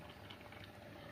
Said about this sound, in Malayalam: ഞണ്ട് ശരിക്കും തിളച്ചിതായിട്ടുണ്ട് അല്ലേ?